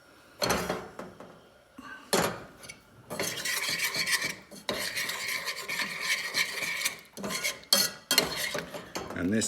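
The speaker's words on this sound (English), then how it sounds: "this bit is critical to keep stirring" A milk sauce for cheesy leeks is stirred in a pan, a steady scraping and rasping of the spoon against the metal, in bursts that start, pause and resume, close and fairly loud, with no talk.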